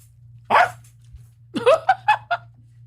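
A dog barks in a video being played back, first with a single bark and then with a quick run of four or five barks, loud and fairly close, set against a steady low hum.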